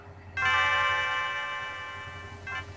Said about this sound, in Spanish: Y suena una campana.